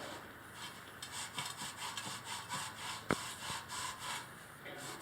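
Quiet rhythmic rubbing as grime is cleaned off a Yamaha TW200 motorcycle tire rim, steady back-and-forth strokes up close with one sharp knock midway.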